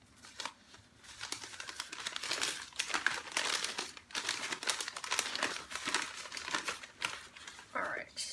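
Newspaper packing material is crinkled and crumpled while orchids from H&R Nurseries are unboxed, a close, busy rustle of paper in repeated bursts with brief pauses throughout.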